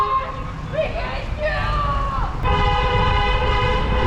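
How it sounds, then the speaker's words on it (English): Passing cars honking in support of a Ukraine protest outside the Russian embassy in London, sustained horn tones layered over traffic noise while people talk and shout nearby. "everyone's going by honking to support Ukraine after the Russian invasion"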